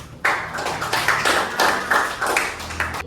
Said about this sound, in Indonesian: Kita tepuk tangan untuk dia yang sudah berani jujur.